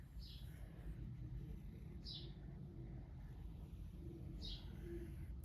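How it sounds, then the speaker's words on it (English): Birds chirp outdoors in short bursts about every two seconds, over a steady low rumble of traffic and distant bass from car stereos. "you could probably still hear the loud birds chirping in the background."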